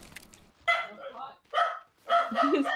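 Dog barking in the survival video game The Forest, three short bursts of barks and yips spaced across the moment, fairly close, with some speech-like mixing.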